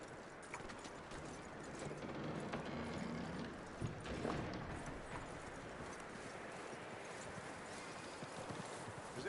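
Horse hooves clip-clop in a steady walking rhythm in the Red Dead Redemption video game, fairly quiet against a low ambient background.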